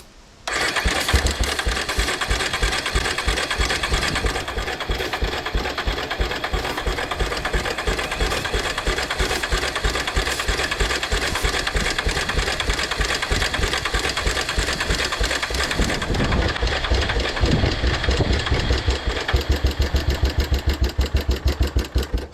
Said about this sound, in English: It was running off starting fluid.